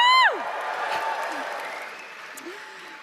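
A large crowd at a Pierre Poilievre political rally in Borden-Carleton, P.E.I., opens with a sharp whoop, then breaks into loud, sustained cheering and applause that slowly fades over a few seconds.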